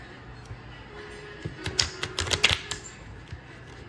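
Playing cards being shuffled by hand during a coin pusher poker game, a quick burst of riffling flutters and taps close by, rising briefly in the middle and fading out.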